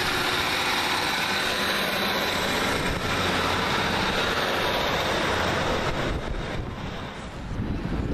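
A Northern Rail class 156 diesel multiple unit approaching Salford Central on a Liverpool Lime Street to Manchester Victoria service, a steady loud broadband engine and wheel roar that fills the whole clip and dips briefly near the end.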